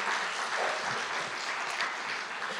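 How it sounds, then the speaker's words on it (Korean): A church congregation at Sunday worship applauds the children, a soft, even patter of many hands heard from a distance, steady for the whole stretch with no talking. "우리 아이들 격려의 박수 부탁드리겠습니다"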